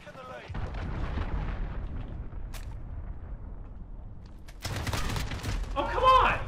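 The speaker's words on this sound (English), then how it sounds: "Enemy cruise missile incoming. Take cover." Heavy rumbling blasts and booming explosions from an incoming cruise missile strike in the shooter game Modern Warfare, a sustained loud barrage with a sharper burst near the end, under faint game voices.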